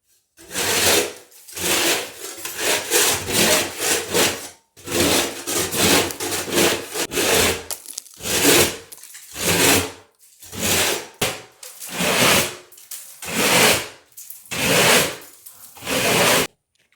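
Scraping a textured drywall ceiling smooth: repeated rough, raspy strokes of a blade across the surface, in bursts of a second or two with brief pauses between, close and fairly loud with no talking.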